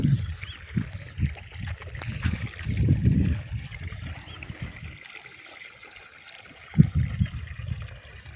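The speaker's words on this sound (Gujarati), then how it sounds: "આપણા નાના ખેતરમાં પાણી ચાલે છે।" Irrigation water trickles and gurgles into a small maize field channel, a close burbling flow with uneven splashes and a louder surge near the end.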